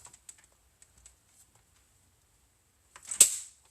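A paper trimmer slices through patterned cardstock for a handmade card: a few faint taps and clicks, then one sharp, close swish-and-snap of the blade near the end, in an otherwise quiet room.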